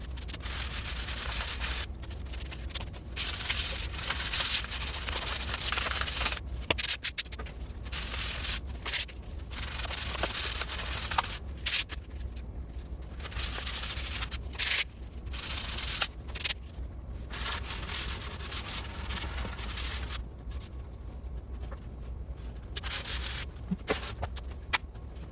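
Wood sanded by hand for a distressed rustic farmhouse finish, a continuous broadband rasping scrub with frequent short breaks as the stroke changes, close and steady over about 25 seconds.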